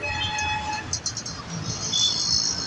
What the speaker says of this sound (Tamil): எம்ஜிஆர் அவர்களின் சென்ட்ரல் ரயில் நிலையம் காலையில் எடுக்கப்பட்ட வீடியோ இது